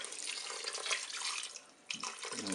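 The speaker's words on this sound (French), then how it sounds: "Je vais verser de l'eau." Water poured over rice in a Cookeo multicooker: a close, steady splashing trickle lasting a couple of seconds, with a brief pause and a gurgle near the end.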